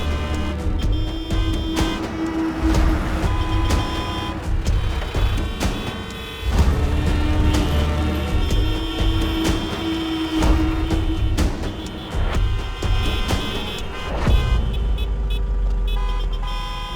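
Congested road traffic with idling and moving cars, horns tooting repeatedly in short bursts over a steady, loud engine rumble, close by and without talk.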